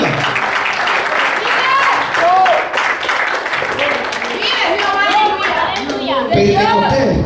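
A congregation at a Spanish-language Pentecostal church service claps and cheers together, steady and loud throughout, with voices calling out over the applause.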